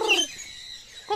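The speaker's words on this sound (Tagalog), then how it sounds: "Ang lovebirds, naglablab gid sila gid ay." Lovebirds give a short burst of bright chirps, then a quieter stretch and another brief call at the end, heard close with no talking.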